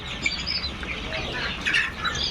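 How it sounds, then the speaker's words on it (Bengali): A busy mix of young native chicken chicks peeping and chirping with some wing flutters, a steady crowded farm-shed chatter without speech. "কিছু ফার্মে মুরগির বাচ্চা আছে আমাদের অন্য শেড থেকে আসছে"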